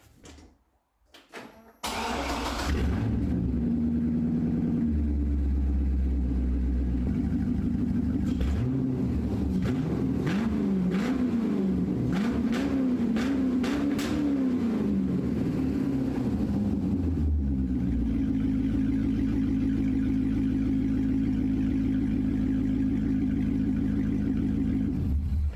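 A Chevrolet Corvette C6 drift car running without mufflers cranks and starts, then idles loud and raw, with repeated sharp revs through the middle before it settles back to a steady, rumbling idle.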